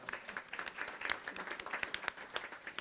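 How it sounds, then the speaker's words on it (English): Scattered audience applause at an ocean-themed talk in Oslo, Norway, faint and distant, a few minutes of irregular individual claps rather than a dense roar. "you can applaud for that"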